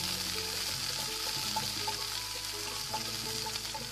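Sliced big onions and curry leaves fry in oil with urad dal and chana dal for a South Indian kothavarangai poriyal, producing a steady, close, bubbling sizzle throughout.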